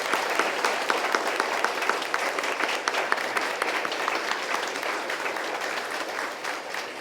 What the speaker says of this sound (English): I ask you to give all the contestants a big round of applause.